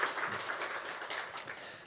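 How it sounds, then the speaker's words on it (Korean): A church congregation at a Korean Thanksgiving Sunday service breaks into dense, even applause, a continuous patter of many hands, moderately distant and fairly faint, with no talk over it. "우리 하나님께 영광의 박수 올려드리겠습니다"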